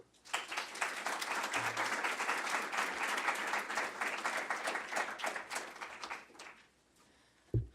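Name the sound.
audience applause welcoming speaker Valerie Hudson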